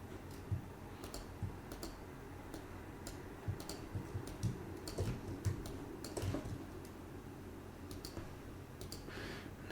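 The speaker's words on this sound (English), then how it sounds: "What I'm doing is I'm just clicking and dragging here." A computer mouse clicks repeatedly while dragging during video editing, a quiet irregular ticking close up in a room, with no talking.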